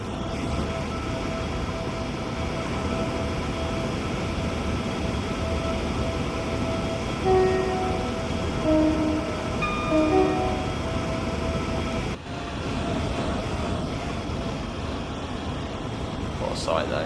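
Class 390 Pendolino electric train in Train Sim World 6, running between Birmingham and Crewe, gives a steady rumbling cab roar at speed with faint whining tones. A brief interruption comes near the end.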